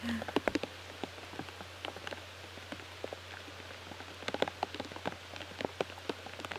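Rain patters steadily on the ground and surfaces around an outdoor disc golf round in a women's professional tournament, with scattered sharper drops striking throughout and a low constant hum beneath.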